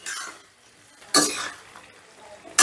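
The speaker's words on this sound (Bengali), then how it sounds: "সোয়াবিনটা দিয়েও মশলার সাথে মিনিট দুয়েকের মতন কষে নিতে হবে" Fried soya chunks being sautéed with spices in a pan, heard as short bursts of stirring and scraping with a soft sizzle, three loud strokes separated by quieter gaps.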